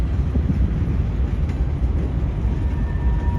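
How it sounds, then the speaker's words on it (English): Freight train cars rumbling through CSX's Howell rail yard during yard switching work, a steady heavy low rumble with continuous rolling noise, loud and unbroken, no voices. "This is a yard job that was working on building trains here at Howell."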